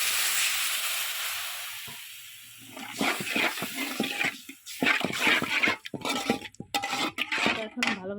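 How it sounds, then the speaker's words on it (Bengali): Water pours into a hot pan of frying potato and pointed gourd with a rushing hiss, followed by sizzling and repeated clatter of a spatula stirring, close and unaccompanied by talk. "এখন একটু পানি দিয়ে দেবো।"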